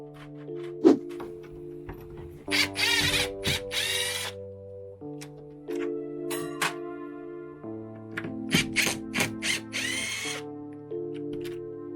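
A power drill working screws loose to remove the refrigerator from a 1999 Fleetwood Bounder RV, with several short whirring bursts, ratcheting clicks and thunks, and a steady tonal hum running underneath throughout.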